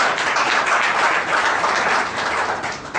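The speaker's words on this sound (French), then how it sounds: "Veuillez applaudir très fort pour vous" A packed hall audience at a Big Business Show claps steadily and loudly, a dense, even wash of applause that holds for the full stretch before easing slightly at the end.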